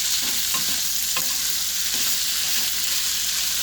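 Potato masala for vada pav is stirred in a sizzling pan, a steady frying hiss under a few scraping spoon strokes, close and continuous with no talking.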